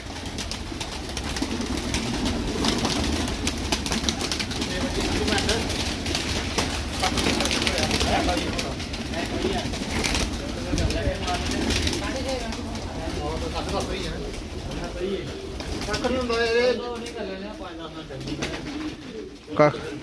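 A large flock of several hundred pigeons, including pink pigeons, keeps up a continuous cooing and rustling throughout while people talk nearby.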